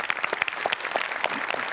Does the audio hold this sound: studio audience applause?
yes